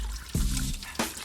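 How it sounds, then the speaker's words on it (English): Honda CBR600RR fuel pump parts being dunked and rinsed in a bucket of water after an acid bath, with two quiet splashing pours and trickles in close succession. "We're just gonna give them a little bath in water,"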